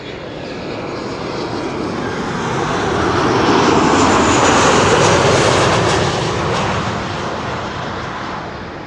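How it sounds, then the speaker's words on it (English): Boeing 777 from Salt Lake City landing at Schiphol, a loud broadband jet roar swelling to a peak mid-pass and easing off, heard alone without talk. "5 minutes behind the 777 from New York is another 777 from Salt Lake City."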